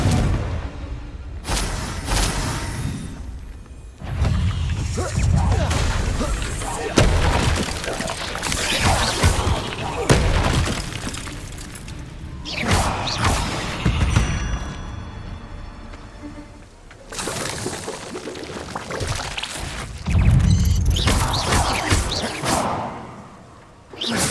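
Repeated fiery blasts from Confringo explosion spells in Hogwarts Legacy, booming bursts and crashes recurring throughout amid game music and effects, with a voice calling out spell names between them.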